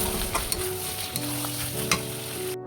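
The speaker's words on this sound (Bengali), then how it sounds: "এই লঙ্কা দিয়ে এখন খুব ভালো করে কষিয়ে নেব" Meat sizzles and fries with chilli in a pan, a steady broadband crackle running throughout, broken by occasional sharp scrapes of stirring.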